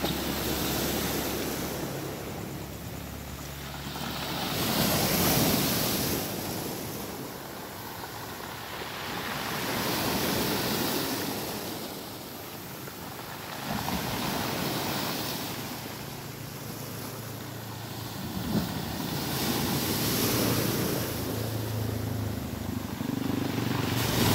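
Strong sea waves surge and break in slow repeated swells at night along the shore at Dela Paz, Batangas City, a steady loud wash with wind noise and no talk.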